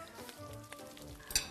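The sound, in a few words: food frying in a pan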